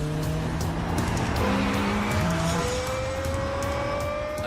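Lexus LFA with its high-revving V10, screaming loudly as it climbs through the gears, each rising wail broken by quick shifts, with faint tire noise along the way.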